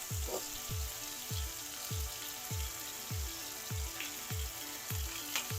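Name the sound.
cod fillet searing in a pan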